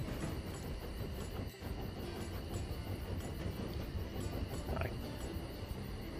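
A train in the game Tiny Rails rolls along steadily, with a continuous dense rumble and clatter of rail travel that holds level throughout and has no voices over it.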